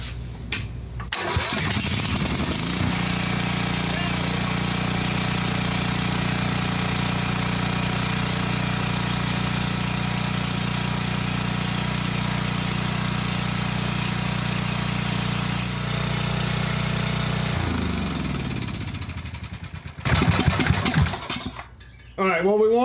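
A Coleman Vertex 7500 watt generator engine starts and runs at a steady, loud, even drone for about fifteen seconds, then winds down and stops, followed by handling noises.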